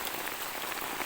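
Rain falls steadily in a village, a dense even patter heard close and alone over a brief moment.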